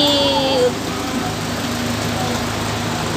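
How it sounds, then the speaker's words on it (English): A minibus engine idling nearby, a low steady rumble with a faint whine early on, while a voice speaks briefly over it. "The minibus is coming."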